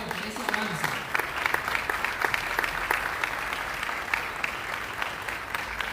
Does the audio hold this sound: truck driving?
no